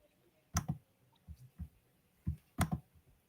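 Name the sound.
computer mouse clicking buttons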